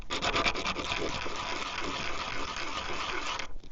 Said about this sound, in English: The sandpaper will smooth it out nicely.